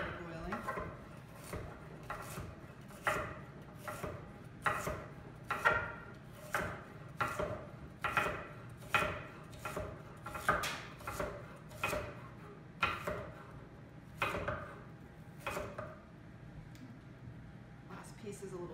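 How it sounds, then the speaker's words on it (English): A knife slices through onions and radishes on a board in a steady series of crisp cuts, about one per second, close and clear. "So now my vegetables are chopped. Sliced. They're sliced."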